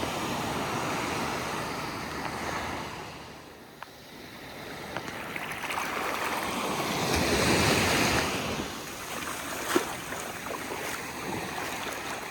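Ocean surf on a beach washes in steady, rolling swells that rise and fade, with wind buffeting the microphone and no voices.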